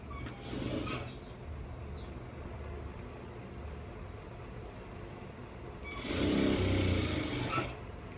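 A sewing machine stitches around the neck of a work blouse in two bursts of steady whirring, one at the start and a longer one near the end, with a quiet hum between.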